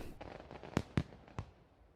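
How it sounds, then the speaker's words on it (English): Fireworks going off outside, three distinct booms about a quarter second apart, muffled and at a moderate distance over low background noise. "so we can enjoy some of the fireworks that are going on"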